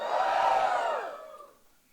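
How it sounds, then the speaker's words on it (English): An improv comedy audience lets out a loud burst of cheering and whooping that swells for a moment, then fades away quickly. "How many of you are coming for the very first time? Give me a cheer."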